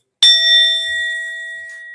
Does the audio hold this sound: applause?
no